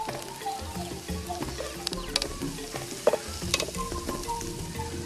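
Shredded beef sizzles and hisses steadily in a hot pan while stir-frying, with scattered clinks and scrapes of a utensil stirring through it, close and fairly loud.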